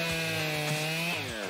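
A chainsaw revs steadily while a woodcutter cuts timber in the Alpes-de-Haute-Provence, its engine whine loud and close, dipping briefly in pitch a few times as the chain bites.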